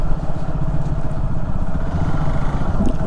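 Royal Enfield motorcycles rumble nearby at a riders' meetup, a loud, steady low thumping engine beat running continuously with no voices.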